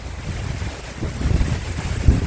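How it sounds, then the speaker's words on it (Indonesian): Strong wind by the Yarra River in Melbourne buffets the microphone in low rumbling gusts, with a broad steady roar swelling louder toward the end; no voices. "Anginnya lagi kencang kebetulan ya."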